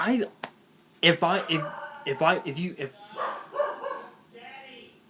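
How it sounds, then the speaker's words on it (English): A dog barks several times nearby in a home, the barks loud and sharp, with a person's voice talking among them. "That was my grandparents' dog."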